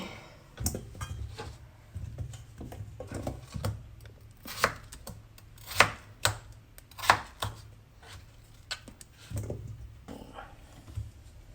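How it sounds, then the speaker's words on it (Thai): A knife chops carrots into large chunks on a cutting board in steady, close, crisp thuds, with occasional pauses between runs of cuts. "หั่นเป็นชิ้นใหญ่ๆนะคะ แครอทค่ะ"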